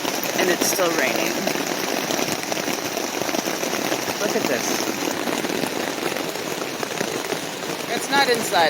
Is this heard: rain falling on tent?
yes